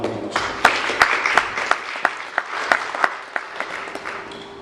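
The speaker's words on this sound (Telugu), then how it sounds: "చప్పట్లు పెట్టుకోవడం" A church congregation applauds together after a sermon remark, a steady wash of many hands clapping with sharper individual claps standing out, fairly close and continuous for several seconds with no talking.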